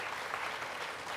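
An audience claps in steady, dense applause to welcome a singer at a performance, IPAF Delhi 2023. It is sustained and fairly even for a short stretch, with no voices above it.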